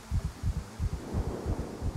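A heartbeat effect from the survival video game SCUM thumps in a steady lub-dub rhythm, about ten beats over two seconds, low and muffled, filling the ears with nobody talking.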